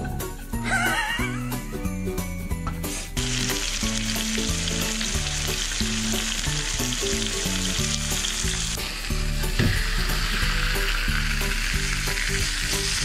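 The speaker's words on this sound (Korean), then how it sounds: "소스에다가 볶아줘요" Garlic stir-frying in pasta sauce in a hot pan, a close, steady sizzle and crackle with stirring scrapes throughout, and no talk.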